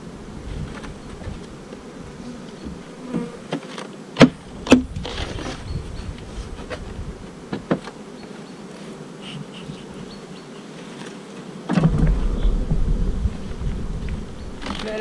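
A honeybee swarm, an artificial swarm fed on candy, being transferred into a hive, with a steady near buzzing throughout, a few sharp knocks and clicks, and a louder bout of handling noise near the end; no speech.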